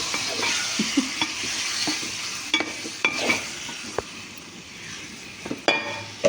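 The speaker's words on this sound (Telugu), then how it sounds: "టమాటా ముక్కలు వేసేసుకుంటున్నానండి." Tomato pieces fry in a pan with a soft continuous sizzle, broken by repeated scraping stirs and light clinks of a utensil against the pan.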